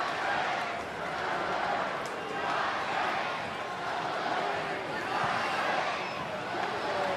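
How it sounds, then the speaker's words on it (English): Football supporters of Adelaide United, the Red Army, raise a steady roar and chant in the stands during an A-League match against Melbourne Victory at Coopers Stadium, a dense continuous crowd wash with no single voice standing out. "The Red Army finding their voice."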